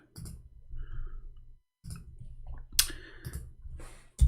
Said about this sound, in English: Okay, finally our keyboard working fine.